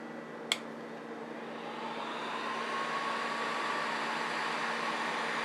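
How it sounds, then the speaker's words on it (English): A heat gun blows hot air during repairs to the wooden cabinet of a 1937 RCA 87K radio, a steady close airflow hiss with a low motor hum that swells slightly, briefly broken near the start by one sharp click. "gotta be careful because the heat gun will heat it up pretty quick and it'll blow it right off."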